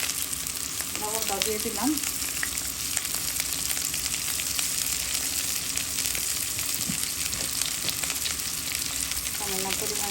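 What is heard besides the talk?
onions frying for bitter gourd bhaji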